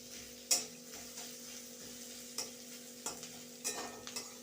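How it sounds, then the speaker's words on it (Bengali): Sliced onions frying in a small amount of oil in a pan give a quiet, steady sizzle, broken by a few sharp scraping clicks of stirring with no one talking. "এই যে পেঁয়াজটা একটু ভেজে ভেজে নিয়েছি এবার এর উপর অল্প তেল দিয়েছি"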